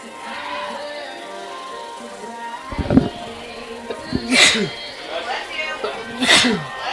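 Two loud sneezes burst out a short while apart during a college baseball broadcast in Tampa, with background chatter and talk around them.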